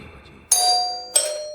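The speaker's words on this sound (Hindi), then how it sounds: "मेरे घर की डोरबेल बजी।" A two-tone doorbell chime sounds twice, clear bright tones ringing out and fading, with a quiet background between them.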